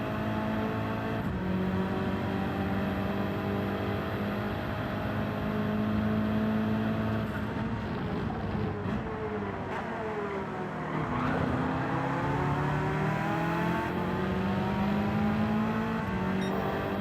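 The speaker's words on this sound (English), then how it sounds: "Porsche's loud back there" A Porsche race car engine in Gran Turismo 7 roars steadily, its pitch climbing and dropping through gear changes, loud and sustained with no talk.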